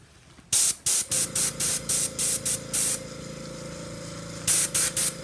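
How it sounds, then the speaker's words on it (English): Repeated short bursts of hissing airbrush spray of alcohol ink, about a dozen, come in quick even pulses over a steady low air compressor hum; close and fairly loud. "air compressor and for an airbrush. It's fairly quiet."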